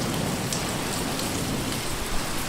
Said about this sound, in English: It's my first time in Sahara, and now it's raining.